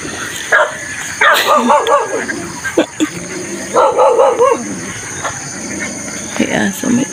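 A dog barks and yips repeatedly nearby, with a whimper, along a village walking route between Otavi and Sigad. Voices can be heard faintly in the background.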